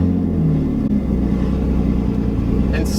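A manual-transmission car is given gas while pulling away, a steady close engine rumble rising slightly under the drive, with no other sounds standing out.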